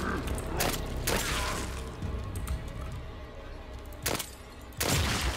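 Gunfire in The Evil Within 2: a few sharp, loud shots ring out at irregular intervals over a dense, rumbling game soundscape.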